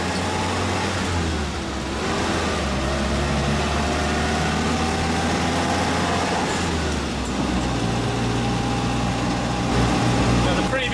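A Land Rover Lightweight drives around a roundabout, its engine droning steadily with pitch shifts as it slows and pulls away, under a voice talking over it.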